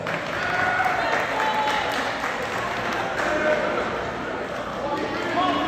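An audience at a high school end-of-year awards ceremony applauds honor roll students, a dense, steady patter of many hands clapping that fills the room without a break.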